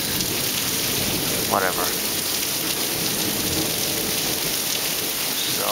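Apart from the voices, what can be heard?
severe thunderstorm with rain and thunder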